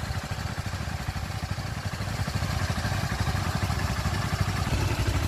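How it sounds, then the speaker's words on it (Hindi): Two motorcycles idle steadily side by side after being started, a continuous low, even engine chug with a faint mechanical clatter, loud and close throughout with no talking. "गाड़ियाँ अभी स्टार्ट हो चुके हैं, अभी ये दोनों गाड़ी को अभी 3-4 मिनट या 5 मिनट तक आइडल कंडीशन में रहना होगा।"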